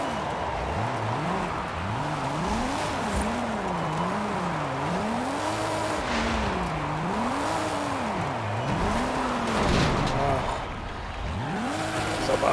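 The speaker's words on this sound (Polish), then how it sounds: "spinuje mi auto" A BMW E36 M3 in Forza Horizon 5 on a rain-wet track, its engine note swinging up and down in repeated arcs as the car slides and spins out, loud and continuous with no talk.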